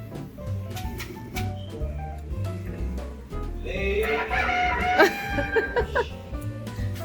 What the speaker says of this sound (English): Here comes the chicken.